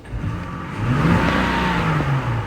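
A car engine revs up and holds at roughly half throttle with a steady mid-pitched drone, close and fairly loud, with a car that has a faulty, unresponsive throttle position reading.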